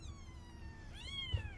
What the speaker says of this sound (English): all of you lovely little kittens